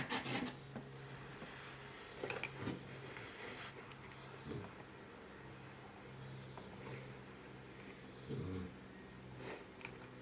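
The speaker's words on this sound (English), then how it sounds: "So I'm just going to use my sanding block." Rough rasping strokes of hand sanding with a sanding block, a few louder scrubbing bursts among quieter steady rubbing, close and fairly soft.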